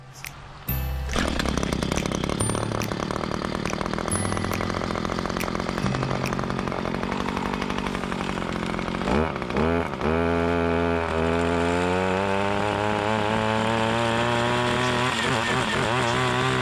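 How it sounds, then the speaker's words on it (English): A brush cutter fitted with a Forester 9-inch chainsaw-tooth brush blade revs loudly while clearing brush around a swimming hole, its engine whining steadily with pitch rising and dropping as it bites. "I'm using a Forester chainsaw tooth 9-inch brush blade."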